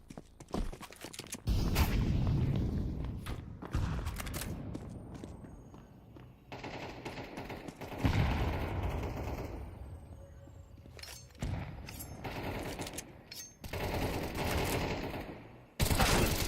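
Gunfire in a shooter video game, bursts of rapid automatic shots that come in several loud clusters split by short pauses, with sharp single cracks between them.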